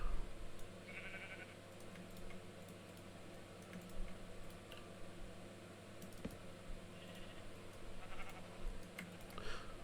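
Sheep bleat in the Minecraft video game, a few short bleats standing out faintly over quiet background noise and scattered keyboard clicks.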